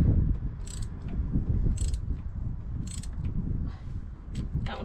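Ratcheting and clicking of a tool as engine parts are tightened on a Fiat Punto with a misfire, several short metallic ratchet bursts spaced about a second apart over low mechanical rumble, close and fairly loud.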